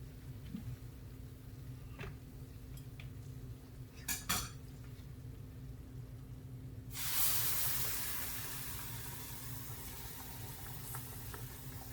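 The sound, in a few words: adding tomatoes to a pan of cubed steak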